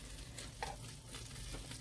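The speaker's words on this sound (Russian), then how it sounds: "Сейчас снова закрою крышечкой и пусть жарится дальше." Lazy meat pies fry in a covered pan with a continuous close sizzle and crackle that stays fairly quiet and steady, and no one talks.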